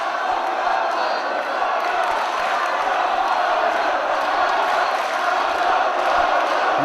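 Wrestling crowd at a TNA versus Ring of Honor match between Nigel McGuinness and Rhino roaring and cheering steadily, a loud, continuous wash of voices filling the arena.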